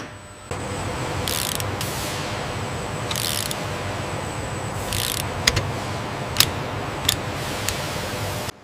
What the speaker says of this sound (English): Engaging the torque wrench now.